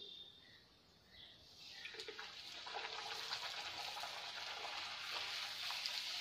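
A puri dropped into hot oil in a kadai starts to fry, breaking into a dense, steady sizzle of bubbling oil that holds at a moderate level close by.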